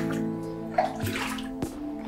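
Water trickles and splashes steadily at a flooded exit of an abandoned slate mine, a close, echoing flow with a few distinct drips standing out.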